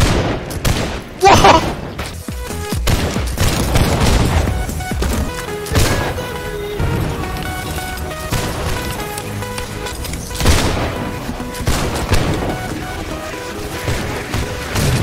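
Musket volleys crack and boom across a Holdfast: Nations at War battlefield, scattered shots and heavy thuds coming near and far while excited voices shout over the fighting.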